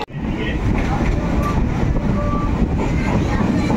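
A metro train rolls past as a loud, continuous low rumble with steady mechanical roar, close by and unbroken throughout, with faint voices underneath.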